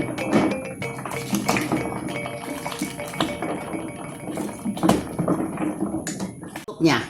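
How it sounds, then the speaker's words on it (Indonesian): Soto Padang broth is stirred in a pot, with continuous metallic clinks and scraping of a utensil against the pot and liquid sloshing, close and fairly loud throughout. "Kita aduk lagi, kita kacau lagi."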